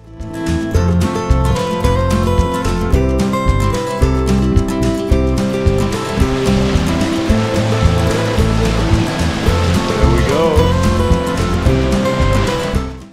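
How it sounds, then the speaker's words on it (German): The water wheel at Skerries Mills turns with loud, constant rushing and splashing water, a dense, close roar that runs unbroken throughout with no voices. "Hatte uns Patrick Michael nicht versprochen, noch das Wasserrad anzuwerfen?"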